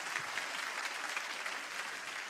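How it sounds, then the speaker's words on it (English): Audience applause for candidates at a Texas congressional special election debate, a steady, even wash of clapping from a crowd that holds at the same level throughout the short stretch. "Let's give all of our candidates a round of applause."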